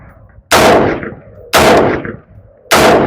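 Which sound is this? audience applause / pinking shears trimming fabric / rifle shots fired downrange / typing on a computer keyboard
rifle shots fired downrange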